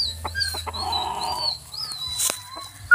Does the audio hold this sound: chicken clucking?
yes